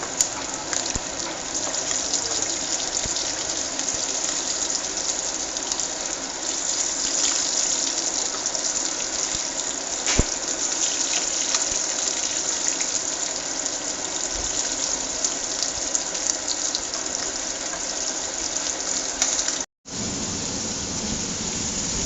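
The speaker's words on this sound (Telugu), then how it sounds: "ఇది ఈ విధంగా డీప్ ఫ్రై అయిపోయింది అనమాట ఫ్రెండ్స్" Fish pieces deep fry in hot oil for a chappal fish fry, giving a steady, dense sizzle that hisses continuously at close range for most of the stretch, with one sudden brief dropout near the end and no talk.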